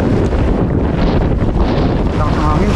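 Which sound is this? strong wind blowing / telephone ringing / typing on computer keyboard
strong wind blowing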